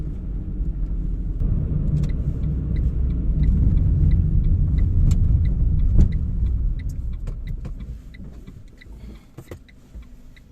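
A car driving on roads around Ambrières-les-Vallées in France under grey skies, heard from inside the cabin: a steady, loud low engine and road rumble that eases off toward the end, with scattered small clicks and rattles and no talking.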